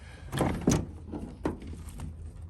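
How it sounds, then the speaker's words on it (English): A camper van's sliding door on a Class B RV rolls and falls shut, giving a few close thunks and rattles of moderate loudness. "as the door comes closed, oops, it fell closed all the way"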